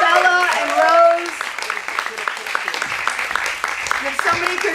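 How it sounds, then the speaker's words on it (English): An audience applauding storytellers at a storytelling event, steady clapping from a crowd beneath a voice speaking over a microphone. "just for a group round of applause"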